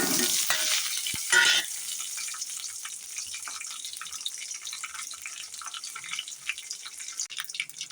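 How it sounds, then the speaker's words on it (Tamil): Crackling, popping sizzle of mustard seeds spluttering in hot oil with urad dal, curry leaves and dried chillies, loudest at the start then settling into a lighter, scattered spatter. "கடுகு வெடிச்சிருச்சு இப்போ நம்ம சின்ன வெங்காயத்தை போட்டுடலாம்"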